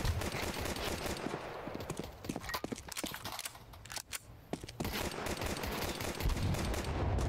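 Rapid bursts of gunfire in a Counter-Strike Wingman match on the Inferno map crackle repeatedly, dense volleys of sharp shots with brief pauses, loud and close, with no speech over them.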